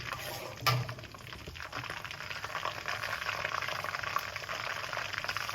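Mustard seeds and broken dried red chilies crackle and sizzle steadily in hot oil for a drumstick pickle, a continuous close frying hiss with a brief louder pop near the start.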